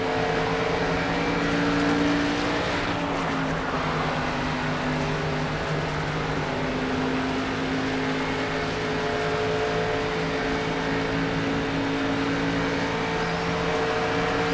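A race car engine in NASCAR 25 drones steadily for several laps, a loud sustained mechanical tone that holds a near-constant pitch, alone without voices.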